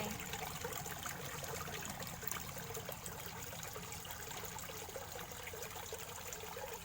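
A frog's call that sounds like flowing water, trickling steadily in a soft continuous babbling with a faint hiss throughout, no talking.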